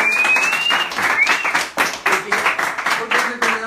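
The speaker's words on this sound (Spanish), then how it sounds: "un aplauso para todos esos emprendedores" An audience applauds local entrepreneurs on a Spanish-language show. The clapping is broken into uneven bursts, and a speaking voice runs over it at the start.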